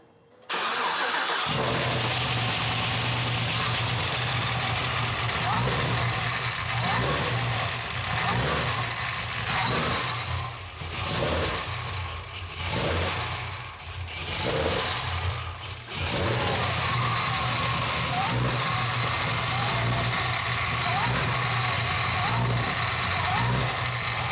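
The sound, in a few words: Cadillac CTS-V engine first start with BTR stage 3 cam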